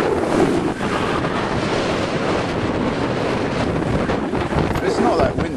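Steady wind buffets the microphone aboard a Harrison Butler yacht sailing out of Falmouth in a moderate breeze, with waves and water rushing continuously underneath, close and fairly loud throughout.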